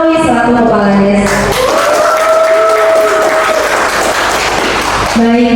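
Audience applause welcoming the village head at a talk show event in Tugu Utara tourism village, Cisarua, Bogor, sustained clapping from a crowd over music, with harmonic tones and a voice running through it.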